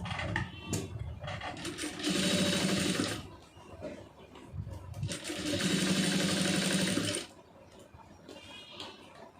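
A sewing machine stitches a marriage blouse in two sustained runs of steady whirring and needle clatter, close and fairly loud, separated by quieter pauses with handling of fabric.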